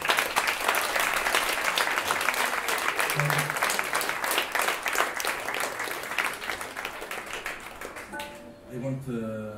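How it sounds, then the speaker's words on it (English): Audience applauding a musician at a concert by a band: dense, steady clapping fills the hall for about eight seconds, then thins out as a voice begins speaking near the end. "So I want you to give him a great applause"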